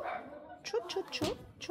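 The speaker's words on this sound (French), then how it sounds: "on entend le chien en bas de chez moi" A dog barks and yips several times from downstairs below an apartment, short sharp calls in quick succession, heard faintly under someone speaking French.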